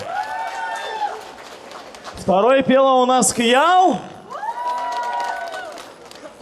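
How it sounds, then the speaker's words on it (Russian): A karaoke show audience bursts into loud cheering and applause for a contestant, rising sharply for about two seconds between announcements, with a host speaking before and after. "ваши аплодисменты"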